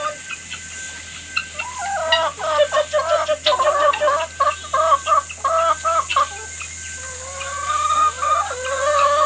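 Chickens being fed corn cluck and squawk in quick bursts close by, a busy run of calls over a steady background hum and hiss, with no talking.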